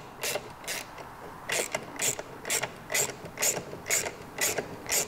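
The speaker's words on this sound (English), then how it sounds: "You need a 17mm combination wrench. I'm gonna break that nut that's on the backside free." A 17mm combination wrench working a shock bolt nut on a Vespa GTS scooter, giving a run of about ten sharp ratcheting clicks in a steady rhythm, close and moderately quiet.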